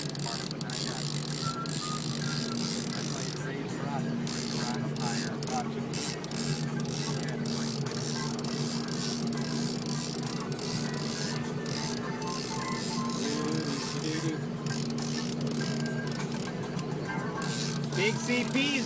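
A fishing reel is cranked steadily, a continuous whirring, clicking mechanism heard close up over a constant hum, with people talking in the background throughout.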